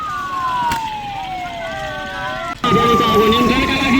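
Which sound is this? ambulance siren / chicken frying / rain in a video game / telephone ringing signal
ambulance siren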